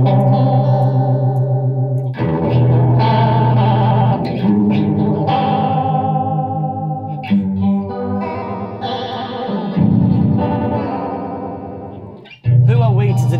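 Electric guitar run through a Corona Chorus pedal loaded with the Dan's Broken Ensemble TonePrint at maximum speed, giving a warbling, wobbly chorus over sustained chords and single notes, loud and close with brief pauses.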